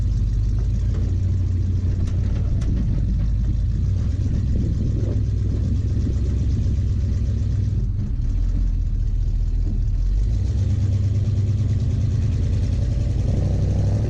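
A rebuilt International 345 engine drives a moving truck at highway speed, a steady low drone with constant road rumble, close and continuous with no talk.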